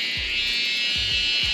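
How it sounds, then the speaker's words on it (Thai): A dense, continuous high-pitched insect drone at night at a campsite in Phu Hin Rong Kla National Park, Thailand, loud and unbroken, with a few low thumps underneath. "เสียงแมลงมันดังขนาดนี้เหรอ"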